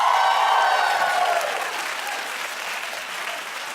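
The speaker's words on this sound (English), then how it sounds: "I'm not sure that cheering is what we're supposed to be doing, but okay." A studio audience applauds and cheers in a dense, loud burst that gradually tapers off over a few seconds.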